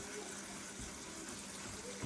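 A sink filling back up with water from the tap, a steady close gush of running water that continues unbroken for a couple of seconds.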